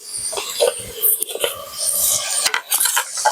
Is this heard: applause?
no